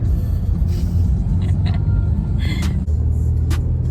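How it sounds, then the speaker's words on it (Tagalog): Road traffic heading toward Antipolo, with a steady low engine rumble from nearby vehicles and a few brief higher clicks and squeaks over it. "Traffic."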